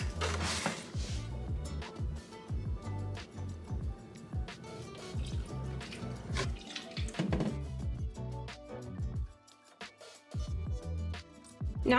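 Milk poured half a cup at a time into a pot for homemade hot chocolate and stirred in, giving close liquid splashes and trickles with clinks and scraping of utensils throughout.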